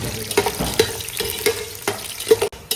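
Whole dried red chillies sautéing in oil in a pan for a Tamil Nadu-style chicken curry: a soft continuous sizzle punctuated by regular spoon scrapes and clinks against the pan, close-up.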